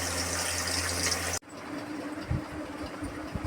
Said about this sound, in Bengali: চলো এবার মেখে নেবো একটু জল দিয়ে।